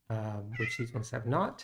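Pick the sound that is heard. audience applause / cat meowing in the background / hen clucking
cat meowing in the background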